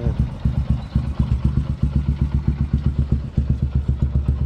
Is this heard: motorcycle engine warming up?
yes